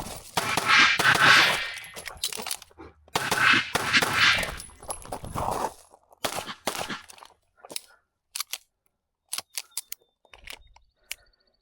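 Rapid pistol shots crack out in two tight strings during a USPSA practical shooting drill, each burst loud and sharp, followed by scattered single shots and distant reports with silent gaps between.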